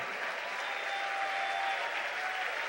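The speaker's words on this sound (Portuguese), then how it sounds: "dê a Ele um aplauso devido" A church congregation applauds during an evening family worship service, a sustained wash of clapping from a crowd heard evenly throughout.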